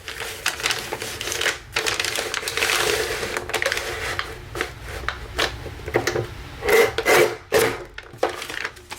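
Scissors cut through a paper bag being trimmed into a book spine cover, giving close, dry crinkling and snipping bursts in an uneven rhythm with short pauses between cuts.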